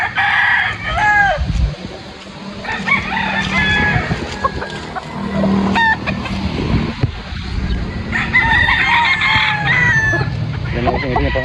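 A Boston cross stag rooster crows repeatedly and close, several rising, strained calls over clucking from other fowl, with someone talking at times in the background.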